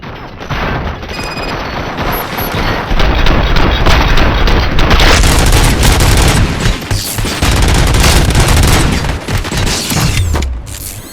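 Loud, sustained gunfire fills the Robocop: Rogue City game, with dense overlapping bursts and booms running nearly continuously for about eleven seconds.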